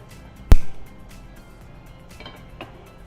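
A pan set down on a kitchen stove, one sharp close metallic clank followed by a brief rattle, then quiet room tone with faint small knocks.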